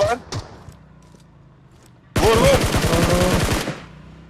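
Rapid automatic gunfire in the video game PUBG, a loud burst of evenly spaced shots lasting over a second after a quieter stretch with a couple of distant shots, with a voice talking faintly beforehand.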